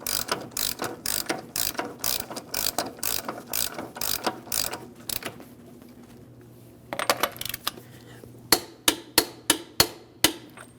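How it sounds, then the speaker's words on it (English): A hand ratchet snugs an axle nut during front lower control arm replacement on a 2005-2010 Chrysler 300: fast bursts of close metallic clicking, a pause, then several slower, louder single clicks. "We'll use a hand ratchet to snug it up."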